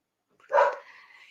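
A single dog bark, close and fairly loud, after a moment of silence, trailing off into a brief whiny tail.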